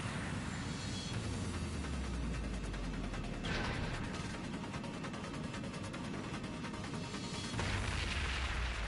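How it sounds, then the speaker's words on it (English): Long-range orbital cannon fire in the video game Trails of Cold Steel II, a sustained, loud, rumbling barrage of booms and blasts with a deep low roar throughout and sharper impacts near the middle and end. "Is that a long-range orbital cannon?"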